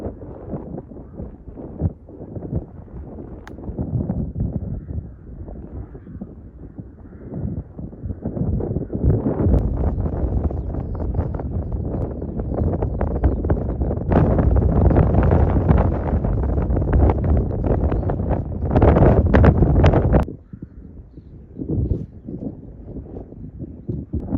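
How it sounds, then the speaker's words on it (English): Strong wind on a Devon golf course batters the microphone with loud, gusty rumbling that swells and fades over time and drops away sharply near the end. "you can probably hear how strong the wind is"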